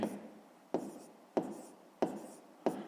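A pen scratches across paper close up in quiet, regular strokes, each starting with a sharp tap and trailing off, repeated about four times in a steady rhythm.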